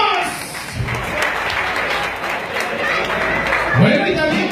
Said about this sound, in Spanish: A ver que se escuche los aplausos.